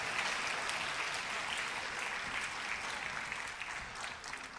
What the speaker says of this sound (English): Let's give one more round of applause for Miss Miller and the Springdale High School Jazz Band.